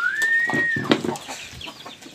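Chickens on a small farm cluck and squawk nearby, with one high drawn-out call at the start and a sharp squawk near the middle, over a busy farmyard background.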